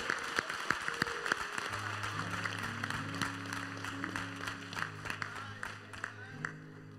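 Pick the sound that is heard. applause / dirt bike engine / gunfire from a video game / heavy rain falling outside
applause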